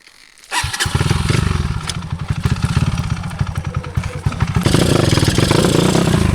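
Motorcycle engine starting up on a rural road, catching suddenly and settling into a loud, close, rapid-firing idle, then revving up near the end.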